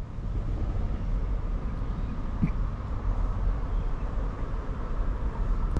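A steady low rumble of a Norfolk Southern freight train rolling past at a distance, constant and unbroken, with no voices.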